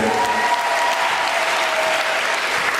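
A church congregation breaks into sustained, dense applause and praise during a Swahili worship service, the clapping filling the space loudly and evenly from start to finish.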